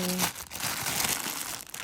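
Crinkling plastic bag wrapped around a skein of polacord yarn, a brief close rustle and crackle of handled plastic.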